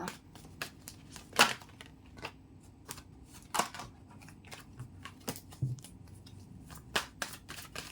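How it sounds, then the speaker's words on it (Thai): Tarot cards are shuffled and laid out on a table, giving a run of sharp, close card snaps and flicks spaced irregularly over a quiet background. "เดี๋ยวเรามาเปิดไพ่เราเข้าต่อเลยนะคะ"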